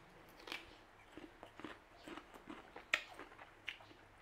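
Raw rhubarb dipped in sugar is chewed close to the mic, giving soft, irregular crunchy bites and chews over a quiet background, with no voices.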